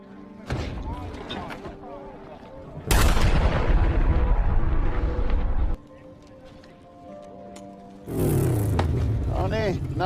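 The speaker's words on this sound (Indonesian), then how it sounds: "Sebuah tembakan dilepaskan ke udara, menandakan bahwa perburuan dimulai." Heavy, booming gunshots fired into the air ring out in separate bursts, each a loud crack with a long rumbling tail, among quieter background sounds.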